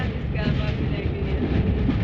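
Steady rumbling roar inside a 1960s train travelling to London, a dense continuous carriage noise with no distinct clacks, loud and unbroken.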